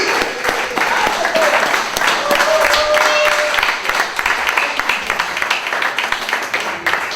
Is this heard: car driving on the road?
no